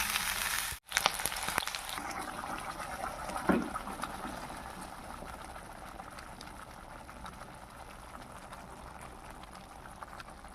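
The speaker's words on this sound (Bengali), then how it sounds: "কাঁচকলা আর আলু ভাজা হয়ে যাচ্ছে।" Potatoes and green bananas frying in oil in a home kitchen, a steady soft sizzle running throughout at moderate level, with a brief sharp knock near the start.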